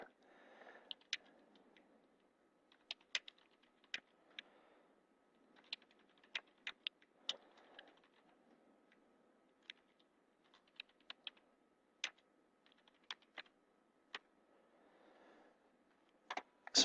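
Steady typing on a computer keyboard while writing a line of Python code: irregular bursts of close, crisp key clicks with short pauses between them, alone without talk.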